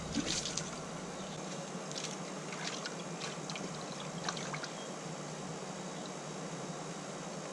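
Water splashing and trickling over a rabbit hide during rinsing, a soft irregular wash of pouring and dribbling with small squishy handling noises, fairly quiet and close.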